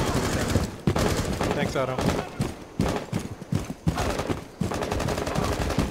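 Automatic gunfire from the Rainbow Six Siege video game during a house terrorist hunt hostage extraction, dense rapid bursts filling the clip under frequent overlapping player talk.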